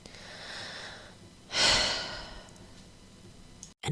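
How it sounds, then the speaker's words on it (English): A single deep breath during a guided relaxation exercise: a soft, quiet intake followed by a louder, drawn-out exhale of about a second, close to the microphone. "Inhale deeply."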